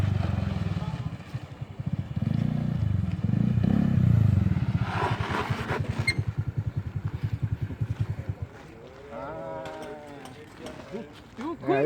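A motorcycle engine revs up as the throttle opens, a loud pulsing drone for several seconds before easing off, with brief talk near the end.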